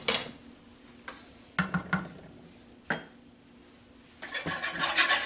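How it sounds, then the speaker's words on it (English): A whisk clicks and scrapes against a pan while stirring gravy made with milk and water, in a few sharp, separate taps followed by a quicker burst of rapid stirring near the end. "You can use a whisk if you want to be sure you don't get lumpy gravy"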